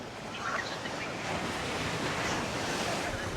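Surf from the Bay of Bengal washes steadily onto a Chennai beach at Ennore, a broad continuous roar with wind buffeting the microphone, no talk over it.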